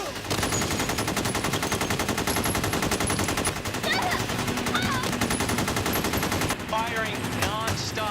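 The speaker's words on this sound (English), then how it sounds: "Firing non-stop." Sustained rapid automatic gunfire in rapid, continuous bursts throughout, loud and dense, with faint voices and shouting under it near the end.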